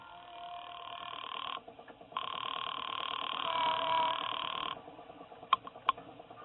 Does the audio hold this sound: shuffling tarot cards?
no